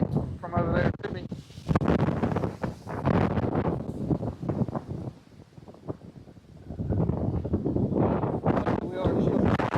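Wind gusting across an open farm field, buffeting the microphone with uneven rumbling blasts that rise and fall, mixed with someone talking throughout.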